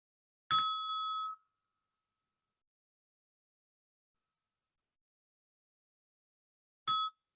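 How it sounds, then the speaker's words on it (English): A meditation bell rings at the close of a practice session, one clear ding with a bright ringing tone that fades in under a second, followed by a long silence and a second shorter strike near the end. "receiving the sound of the bell now as we come to the end of this practice"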